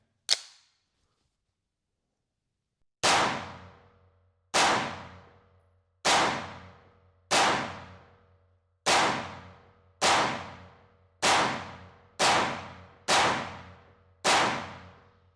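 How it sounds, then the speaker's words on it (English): Ten sharp pistol shots from a CZ Shadow 2 Orange fired at a target 10 yards away, a single crack followed by a pause and then nine evenly spaced reports, loud and close with ringing tails. "Oh, I'm shooting at 10 yards."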